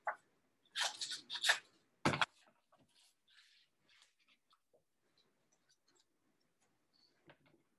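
A Sizzix Big Shot Plus die-cutting machine cuts small cardstock flowers, giving a few loud crunching, ratcheting bursts in the first two seconds and then scattered faint ticks and clicks, with no talking.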